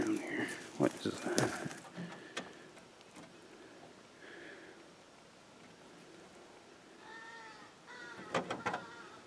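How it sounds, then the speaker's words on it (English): A bird gives hoarse, sick-sounding calls near an old truck cab on a hillside. A few rough, raspy caws come out in short bursts, with brief talk around them. "One sick sounding bird."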